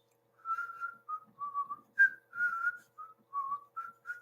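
A whistle sounds at a moonlit Edo folklore gathering, a string of short clear tones rising and falling in a tuneful pattern, fairly faint, with silence between the notes.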